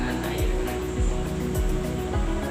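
Tap water runs steadily during ablution washing, a continuous broadband hiss close by with faint rhythmic low thumps underneath.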